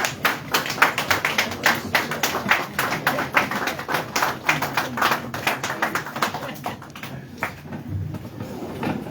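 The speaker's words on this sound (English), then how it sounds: "can we please applaud him? Give him a standing ovation." An audience at a Ministry of Health event in Sierra Leone claps together in a standing ovation, a dense, lively patter of many hands that starts strong and then fades toward the end.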